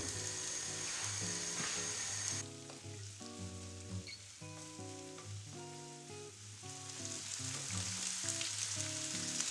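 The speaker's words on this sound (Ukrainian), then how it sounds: "На розігріту сковорідку наливаю олію і викладаю цибулю" Onions sizzle and crackle steadily in hot oil in a pan, a continuous hiss with scattered pops, while music plays underneath.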